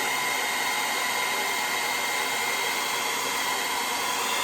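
A blow dryer runs steadily at close range while drying hair over a round brush, a constant loud whooshing hum with no pauses and no voices.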